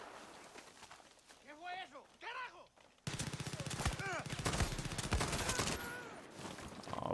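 Rapid, continuous gunfire from the video game Far Cry 6 bursts in loudly after a man's brief speech and keeps rattling steadily through the rest of the moment.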